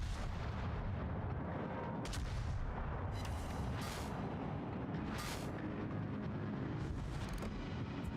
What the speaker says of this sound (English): Let me see if I can get a good volley off on this guy.